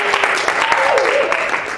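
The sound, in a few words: audience applause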